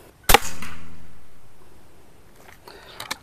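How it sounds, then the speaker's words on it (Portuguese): A P35X Evolution air pistol fires a slug at a 51-metre target with one loud, sharp close-up crack and a trailing hiss. A faint distant impact follows, then soft handling clicks near the end. "Quarto disparo."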